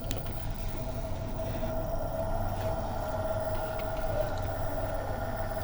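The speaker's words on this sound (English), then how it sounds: "Reverse switch on, motor is on." An electric motor driven by an LS iS7 inverter runs in reverse with a continuous, steady hum and a faint tonal whine that holds constant throughout, close and moderately loud.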